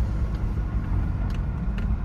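A 3rd generation Toyota 4Runner with a 5VZ V6 engine fitted with a piggyback ECU cruises slowly through a parking lot, giving a steady low engine rumble heard from inside, with no talk.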